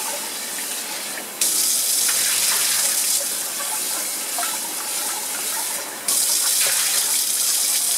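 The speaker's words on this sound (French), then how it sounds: "Tu vas aussi rincer ton rondeau." Tap water running loudly into a metal cooking pot while it is rinsed in a kitchen sink, a steady gushing splash that cuts off briefly and then restarts, no speech.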